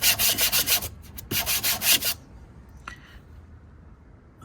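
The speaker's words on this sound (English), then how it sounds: "get enough of the rust off. To be able to put the hammerite on" Abrasive rubbing and scrubbing of rust off a Land Rover Defender door, in a run of quick rhythmic strokes, then a short pause and a second burst, followed by near-silence with a faint scrape.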